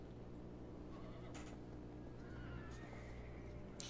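Horses in the snow in the video game Assassin's Creed 3 give a few faint, distant whinnies over a low steady rumble of wind and ambience.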